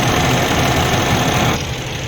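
A Freightliner Cascadia diesel engine with fresh oil idles in a loud, close, even drone. The level eases slightly near the end.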